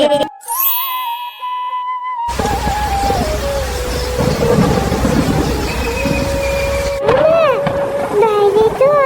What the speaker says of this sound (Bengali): বৃষ্টি যে থামার নামই নিচ্ছে না এই সকাল থেকে সন্ধে অবধি বৃষ্টি